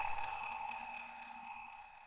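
A submarine-like synth patch in FL Studio, paired with a jazz sound, gives off a steady sonar-style tonal hum with faint blips, quiet and alone for about two seconds.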